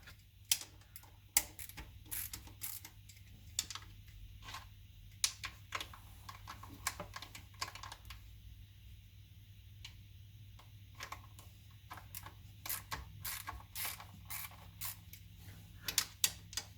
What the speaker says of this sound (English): Got my 10mm ratchet.